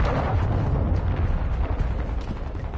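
A cruise missile explosion in the Call of Duty MW2 video game, a loud rumbling blast that rolls on for several seconds with heavy low-end roar and debris-like crackle, no talk over it.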